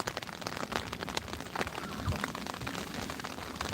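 Steady rain patters on surfaces outdoors during a fishing outing, a dense, even hiss of drops close by with no talking.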